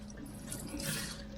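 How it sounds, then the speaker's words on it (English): Continuous splashing and running liquid as engine parts from a BMW N62 cylinder head are washed in a solvent tank to strip off oil, steady and fairly quiet throughout with no talking. "Okay, so quick wash on the solvent tank."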